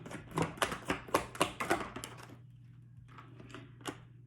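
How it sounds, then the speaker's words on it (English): Tarot cards shuffled and drawn from a deck, with a rapid run of crisp, close card flicks and snaps that thin out into a few scattered taps over a steady low hum. "Let me get 5 more cards out of Spirit."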